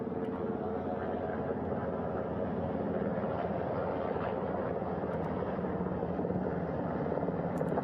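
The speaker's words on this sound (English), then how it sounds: "Hearing them begin to hover on the flight deck, which is just across from us," Recovery helicopter hovering over a ship's flight deck during a crew splashdown recovery, a steady heavy rotor drone and engine whine heard from across the deck near the bow, continuous and fairly distant.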